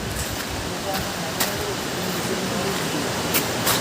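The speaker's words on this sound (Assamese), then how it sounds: "শব্দটো শুনা পাইছেনে আপোনালোকে এইটো হৈছে এটা নদীৰ শব্দ" A river flows in a constant broadband rush near a Moina Pukhuri temple, with a few faint clicks and knocks over the steady water noise.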